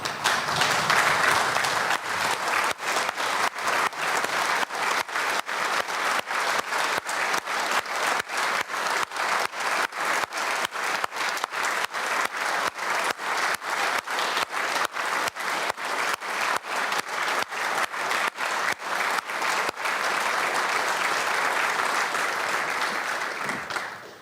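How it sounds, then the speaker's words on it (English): Members in the Irish Dáil parliamentary chamber give a standing guest sustained applause, a dense, even clatter of many hands that carries on for over twenty seconds before fading out at the end. "Can I ask everybody here to stand and applaud Natasha?"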